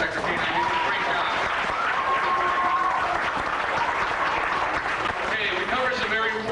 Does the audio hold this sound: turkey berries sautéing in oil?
no